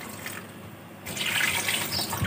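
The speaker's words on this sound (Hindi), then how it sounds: "तो इसको मैंने पानी डाल के अब रख दिया है" Water pours steadily into a cooking pot holding spices and meat for yakhni broth, a close, continuous splashing rush that grows fuller about halfway through.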